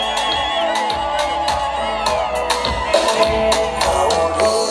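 Crowd ululating in celebration, high trilling vigelegele calls in repeated bursts, loud and close, with voices mixed in.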